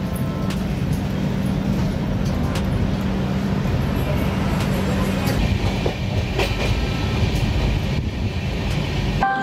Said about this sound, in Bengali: ট্রেন জাস্ট 1 মিনিট লেটে ঢুকেছে। আমরা পৌঁছে গেলাম দুর্গাপুর স্টেশন।